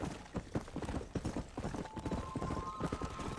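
Horse hooves clip-clop in the Red Dead Redemption video game, a quick uneven galloping rhythm of hoof beats, close and prominent throughout, with no talking.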